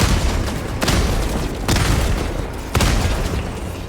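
Explosions tear apart a stratagem jammer in the video game Helldivers 2, with three loud, deep booms spaced about a second apart over a constant rumbling battle bed and no talk.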